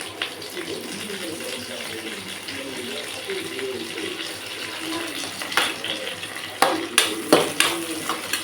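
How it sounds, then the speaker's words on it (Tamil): Curry leaves frying in a pan of oil while making carrot rice, a steady sizzle with stirring scrapes, a few sharper bursts of crackling near the end. "இந்த ஸ்டேஜில் நான் கருவேப்பிலை போட போகிறேன்."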